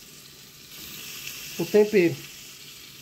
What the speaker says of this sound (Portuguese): pode desfiar ele aqui, ó, na panela